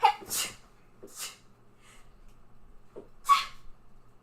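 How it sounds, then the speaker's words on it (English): A sneeze bursts out near the mic, followed by a couple of short breathy snorts and a second sharp sneeze-like burst, with quiet room noise between. "I'm going to sneeze."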